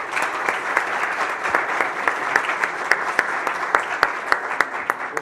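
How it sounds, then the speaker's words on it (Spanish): Audience applause welcoming a guest speaker at a business conference, a dense steady clapping with sharper individual claps standing out throughout, fairly close and loud, with no talking. "Me gustaría pedir para él un aplauso de bienvenida."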